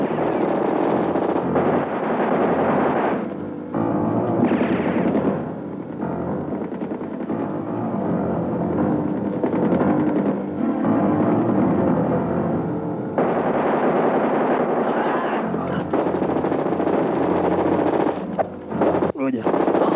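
Dramatised gunfire rattles in bursts of rapid shots with windy rushing, set against a dense, loud background.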